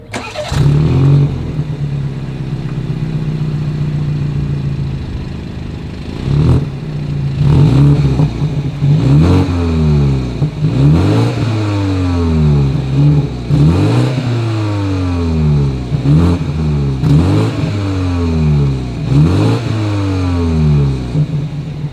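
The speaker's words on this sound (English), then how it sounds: "As always, here is that exhaust clip." A 2020 BMW X3 M Sport idles steadily, then its exhaust is revved again and again in sharp, evenly spaced blips, each rising and falling back to idle, loud and close by.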